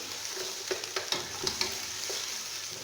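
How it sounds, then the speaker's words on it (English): Kienyeji chicken with browned garlic and red onions, stirred in a sizzling pan for stew: a steady soft fry hiss with occasional clinks and scrapes of the spoon, close but quiet, and no talking. "the chicken is turning brown. I will keep on stirring it"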